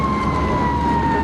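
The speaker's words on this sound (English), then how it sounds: "We got the ambulance here coming now," An ambulance siren wails on a highway at a crash scene, a loud steady electronic tone holding throughout the short moment with no voices.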